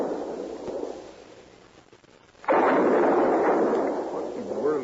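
A Sharps rifle fires during a frontier buffalo hunt, a heavy distant boom followed by a long rumbling echo after a quieter rustling stretch.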